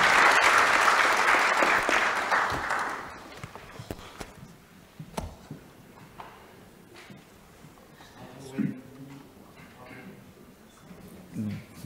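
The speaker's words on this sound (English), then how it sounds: "I think they deserve a really strong hand of applause." Applause for forum panelists fills the first few seconds with dense clapping, then cuts off abruptly, leaving a quiet room with scattered knocks, shuffling and brief voices talking faintly.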